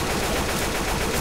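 Gunfire in a video game: a dense, continuous roar of rapid shots that fills the whole moment, loud and close, with no pauses between rounds.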